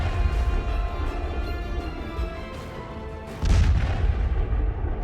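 Tornado-S rocket strikes in war footage: a continuous rumbling roar of distant blasts and rolling booms, with a louder, harsher explosive surge near the end, no speech.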